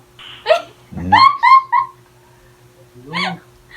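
A dog barks nearby in a few short, sharp bursts: one early yelp, a quick cluster of barks, then a final bark after a pause, in a quiet room.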